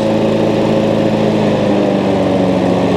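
A Hayter 56 Pro petrol lawn mower engine runs steadily at full revs, loud and close, with a constant droning hum and no voices.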